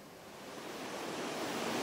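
A valley stream swollen after three days of heavy rain, at Beopsuchi valley in Hyeonbuk-myeon, Yangyang, rushes as a steady broadband roar. The roar swells slightly and continues unbroken, with no voices.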